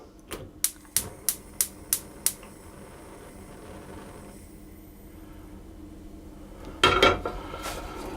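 Cheesecake filling of eggs and cream stirred in a saucepan over very low heat: a quick run of six regular metallic clinks of utensil on pan, a quiet stretch, then a louder scraping clatter.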